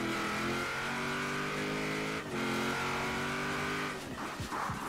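Engine of a 1964 Austin FX4 taxi racing in Forza Horizon 4, a steady loud drone holding through gear changes, with a brief dip near two seconds and rougher rumbling near the end.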